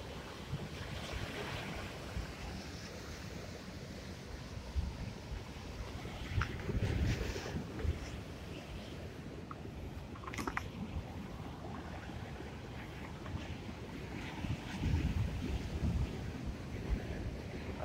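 Sea waves wash against rock formations at Bathsheba, Barbados, a continuous surging roar with gusty wind buffeting the microphone, rising and falling in steady swells with no talk.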